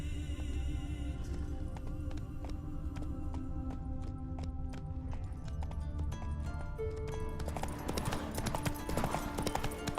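Horse hooves clip-clop in a quick, regular gallop in The Witcher 3, with rapid crisp strikes running under game music and ambient sound throughout.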